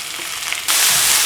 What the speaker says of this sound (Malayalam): ഇതും ഇനി നന്നായിട്ട് വഴന്ന് എണ്ണ തെളിഞ്ഞു വരണം